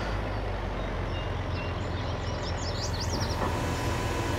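A farm machine in Farming Simulator 22 unfolds during beet harvesting on the Hof Bergmann farm, with a steady engine drone throughout and a run of chirpy mechanical squeaks and beeps in the middle.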